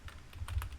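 Quick keystrokes on a computer keyboard, a short irregular burst of several clicks, close and fairly quiet with no talking.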